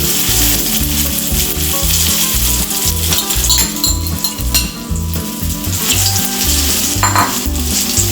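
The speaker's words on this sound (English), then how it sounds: "Once the oil is heated, add this crab batter and spread it into a good circle." Crab omelette batter sizzles in hot oil in a pan, a loud, steady crackle close at hand, broken by occasional scrapes and clinks of a utensil as the batter is spread.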